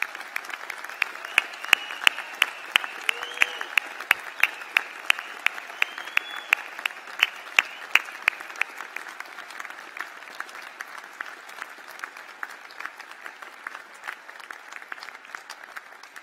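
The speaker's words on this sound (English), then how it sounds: "Please can I ask you to join us in a final round of applause for our graduates today." A large hall audience applauds graduates at a university computing and science graduation ceremony, steady reverberant clapping with sharper individual claps standing out near the front, gradually thinning and softening toward the end.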